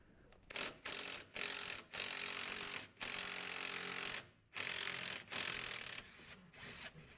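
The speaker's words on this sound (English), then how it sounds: "Using a 17mm socket, just remove the lower bolt." A ratchet with a 17mm socket clicks rapidly in repeated bursts as a Mazda rear shock's lower bolt is loosened, about eight close, sharp ratcheting runs separated by short pauses, with no talk.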